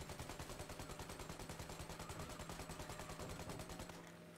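Rapid automatic gunfire in the Mafia video game fires at enemy drivers in a long, steady burst of evenly spaced shots that runs for about four seconds before stopping abruptly.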